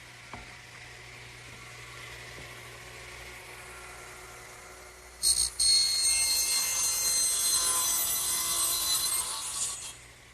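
A wooden bookcase shelf is sawn to a length of 34 3/8 inches. After about five seconds of quiet room tone, a loud, steady cutting noise starts abruptly and runs to the end with no talking.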